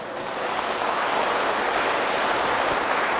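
A church congregation claps during a bishop's sermon, a dense, steady wash of many hands clapping together, loud and continuous with no distinct beats.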